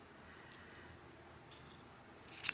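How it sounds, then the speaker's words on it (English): Faint snips of scissors trimming cotton wick at a quiet, close distance, three sharp clicks spaced apart over a soft background hum, while building a GeekVape Zeus X RTA. "Get my scissors."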